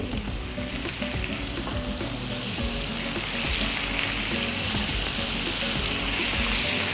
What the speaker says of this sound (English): I'm going to be quickly stir frying my squid inside